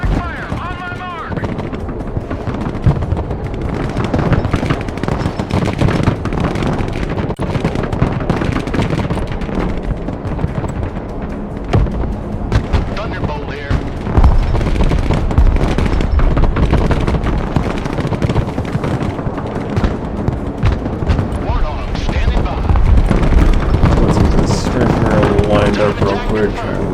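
Loud, sustained battlefield din in the video game Broken Arrow, with artillery strikes and explosions booming amid continuous gunfire, dense and close throughout with a voice heard at moments.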